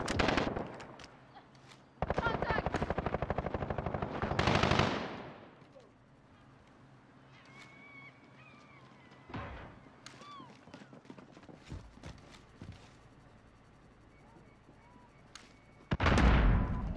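Loud bursts of rapid automatic gunfire in Call of Duty: Modern Warfare come in two long volleys near the start and a short burst at the end, with quieter scattered shots, clicks and game sounds between.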